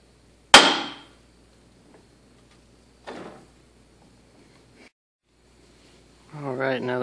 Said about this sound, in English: Give this a good whack.